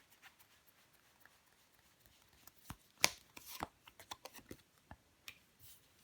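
Tarot cards being laid down and handled, a string of soft slaps, flicks and taps, close and fairly quiet, clustering into a busier burst in the middle and trailing off into occasional light touches.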